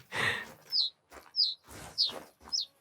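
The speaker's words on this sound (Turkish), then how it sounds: "Kuş sesleri falan çok gerçekçi ya." Birds call in the Cuatro Colinas area of the hunting game Hunter Call of the Wild, giving four sharp, bright chirps at a steady pace, close and clear between softer rustling.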